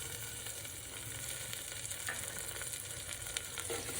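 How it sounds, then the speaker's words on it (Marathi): Chopped onion and tomato frying for a mutton gravy, a steady low sizzle with occasional stirring scrapes, quiet and continuous with no talking. "कांदा थोडा गुलाबी रंगपर्यंत येऊ येईपर्यंत आपण भाजून घेऊया"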